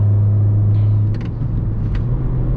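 A 2008 Honda Civic Mugen Si drives along with a steady low engine drone and road rumble heard from inside the car, with a few faint clicks and no talking.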